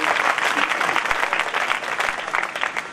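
Sustained audience applause at a gathering in a Swaminarayan temple in Lunwada, a dense, steady clapping that fills the whole stretch at fairly close range.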